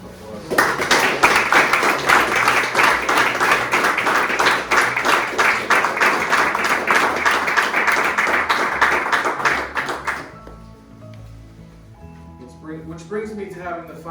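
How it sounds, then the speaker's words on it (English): Audience applause at a Town of Poughkeepsie Police K9 Academy graduation: sustained, even clapping from a crowd that runs for about ten seconds, then cuts off abruptly into quiet room tone as a voice begins speaking. "I think they deserve a round of applause."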